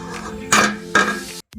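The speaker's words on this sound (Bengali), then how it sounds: "মাংস করে নেবো, তাই কড়াইটা চাপিয়ে নিচ্ছি।" A wok is set down on a stove with two sharp metallic clanks over a steady background hum, followed by a short silence and a faint knock.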